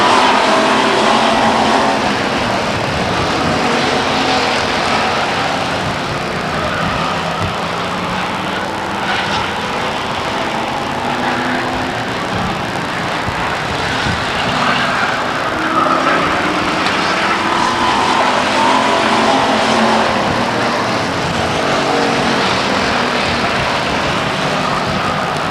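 Race cars roar continuously around the Stockton 99 Speedway oval, a loud dense blend of engines holding steady throughout with no clear gaps or voices.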